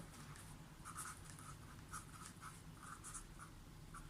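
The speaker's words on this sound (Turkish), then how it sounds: "Buraya da yazıyorum 9 santim." Pen or pencil writing measurement marks onto a paper shirt-collar sewing pattern, soft rhythmic scratchy strokes repeating steadily for about four seconds, close and quiet with no talk.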